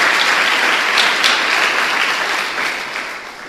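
Congregation in church giving a round of applause during a sermon, a loud, dense roll of clapping that holds steady and then gradually fades toward the end.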